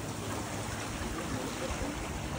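Tide water surges into a sea cave at Heisler Park in Laguna Beach, a steady rushing wash of seawater that stays close and even, with a low rumble beneath and no clear talk.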